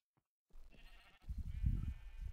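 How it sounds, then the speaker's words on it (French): Video game sheep bleating, a low, rough, sustained bleat that swells and lingers close up after a short silence, with no talk over it. "Oh, les moutons, on se calme."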